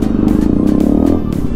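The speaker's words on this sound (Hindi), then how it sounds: "भैया मैंने कहा थ्रॉटल मारो, तो यार थ्रॉटल मारते मतलब मज़ा आ गया बाइक में" A Kawasaki ZX10R superbike engine pulsing hard under throttle, loud and close, its rapid rhythmic exhaust firing rising in pitch through the middle before easing slightly, with wind rushing around it.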